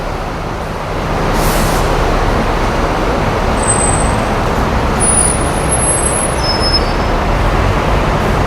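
A Singapore public bus hums with a steady, loud broadband engine and road roar, heard from nearby, with a few faint high squeaks partway through.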